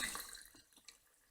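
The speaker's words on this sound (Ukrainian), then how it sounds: "наливаємо в банку виноматеріал" Homemade wine poured from a hose into a glass jar already holding sugar, a short close trickle and splash of liquid that fades to faint drips.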